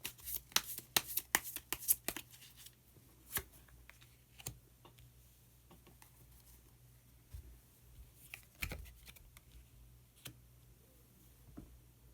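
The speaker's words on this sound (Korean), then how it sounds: "마법사 카드를 한 장 더 뽑아보도록 하겠습니다" Tarot cards shuffled and drawn during a reading: a burst of quick papery riffles and flicks near the start, then a few isolated snaps and slides over a low steady hum, close and fairly quiet.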